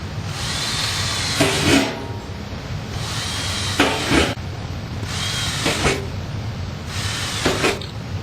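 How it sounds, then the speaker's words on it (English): A power drill whirs in four short bursts, each a couple of seconds long, separated by brief pauses, drilling pairs of holes for a raku kiln kit. "Go ahead and drill 4 pairs of holes."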